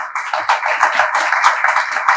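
Audience at the PCCI annual conference in Lahore clapping to welcome a Brigadier to the stage, a brief, dense burst of hand claps close by.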